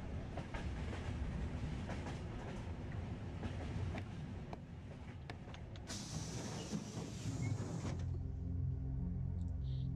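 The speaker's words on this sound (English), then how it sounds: "Sitting on the other side of the train." Train-riding ambience from the video game Yume Nikki Dream Diary: a steady, full rolling rumble with faint clatter that runs throughout, then thins to a lower, sparser hum near the end.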